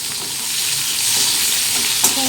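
Oil sizzles and crackles steadily in a pan as cumin, chilli and tomato fry, with a brief stirring clatter near the end, close and fairly loud.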